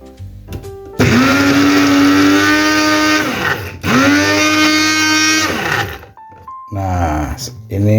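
Blender coarsely grinding large red chilies and peeled kencur in two long whirring runs with a brief pause between, loud and close, with a short stop-start burst near the end.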